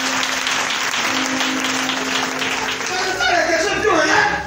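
A church congregation applauds during a sermon, with steady, dense clapping that swells toward the end while a voice speaks over it.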